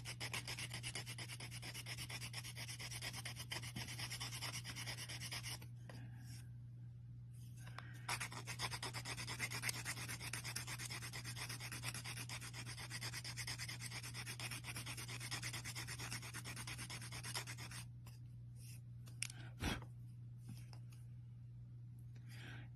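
Nivea cream is rubbed onto sanded polymer clay with a quiet, continuous rubbing texture that breaks off briefly twice before resuming, faint and close.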